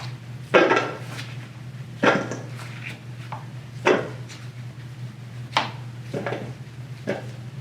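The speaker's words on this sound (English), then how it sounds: "We'll take our potatoes and place them in a bowl." Potato pieces being dropped into a bowl in a kitchen, a series of separate knocking clatters spaced about a second apart over a steady low hum.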